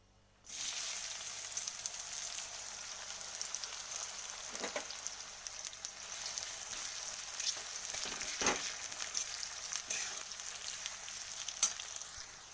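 Onions frying in a spoonful of ghee for chicken kanti, a steady close sizzle with faint crackles and a few soft stirring knocks, running alone without talk after a quiet start.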